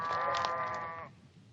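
A single sheep bleats once in the high desert, a clear wavering cry lasting about a second before fading into quiet outdoor background.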